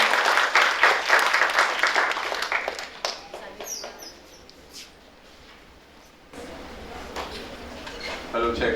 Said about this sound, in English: Felicitate him with a huge round of applause.